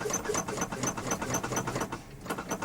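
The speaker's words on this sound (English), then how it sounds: "So pump the brakes now." Truck air brakes being pumped repeatedly in the cab during a CDL in-cab brake test, giving a fast, regular mechanical rhythm of short bursts and hisses, close and steady.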